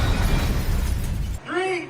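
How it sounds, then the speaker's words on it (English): On the film set of Final Destination Bloodlines, a pane of glass breaks in a loud, sustained crash and clatter, then cuts off sharply and a short voiced cry follows. "Truly breaking the glass,"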